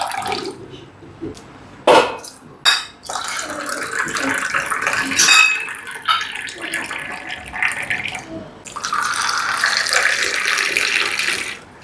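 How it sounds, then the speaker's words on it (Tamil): Tea poured back and forth between vessels, tea-stall style, in a home kitchen, with repeated streams of liquid splashing in bursts and a longer steady pour, close by, with occasional soft talk. "எப்படி டீ கடைக்கார மாதிரி ஆத்துறானா இல்லையா?"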